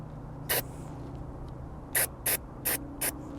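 Aerosol can of all-in-one lithium grease sprays onto the spring of a Witter Quantum detachable swan neck tow bar in five short sharp hissing bursts, one then a quick group of four, close up over faint background hum.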